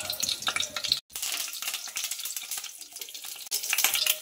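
Mustard seeds, cumin and curry leaves sizzling in hot oil in a pan, a bright crackling fry with popping spatters, briefly cut off once, then sizzling steadily again.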